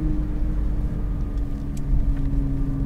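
Nissan GT-R on a track, a steady low engine drone with a sustained tonal hum and road rumble, heard from inside the car at an even level.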